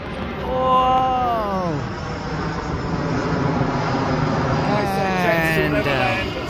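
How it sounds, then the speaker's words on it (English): A large airplane flies low overhead with a loud, close roar, its engine whine sliding downward in pitch as it passes, then swelling again toward the end. "that's a big old plane. Took me ears off."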